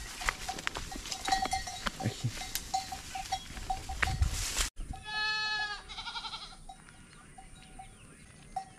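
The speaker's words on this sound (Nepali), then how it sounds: "मेरो बाख्राहरू आउँदैछ गाइज" Goats bleat as they approach while being herded out to graze, with a burst of several close, loud wavering bleats in the middle against steady outdoor rustling and faint clinking.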